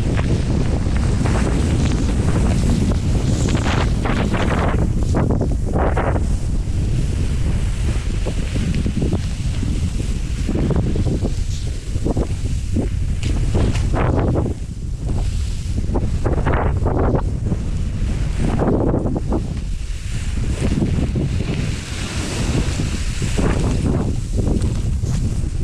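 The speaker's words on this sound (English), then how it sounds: "So windy." Strong gusting wind roars across the microphone during an early-winter ride on a mountain at Whistler, a loud continuous buffeting that swells and dips throughout with no clear talk.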